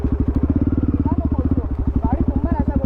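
A motorcycle engine chugs with a fast, even pulsing beat, steady and close. A person talks over it.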